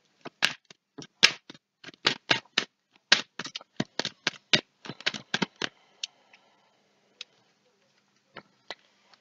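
Two decks of playing cards are shuffled in a string of crisp, close riffles and snaps, dense at first and thinning to a few scattered taps near the end, with no talk.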